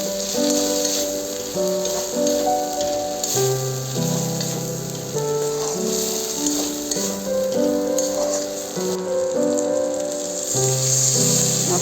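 Ground turmeric, chili, cumin and coriander powders sizzle with tomato in hot oil in a pan while being stirred for a silver carp curry, steady frying crackle over background music.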